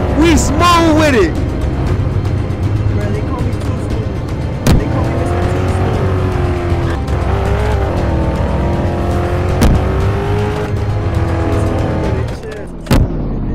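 A car drives in a Roblox hood game, engine tone rising and falling with squealing tires and a few sharp crash-like hits, loud and continuous under a talking player.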